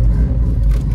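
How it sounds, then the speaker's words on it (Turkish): A Tofaş Şahin car engine, lowered and modified, rumbles deep and loud, a heavy low exhaust drone that swells slightly, close by, with no voices. "Bu egzoz sesini hallettireceğiz"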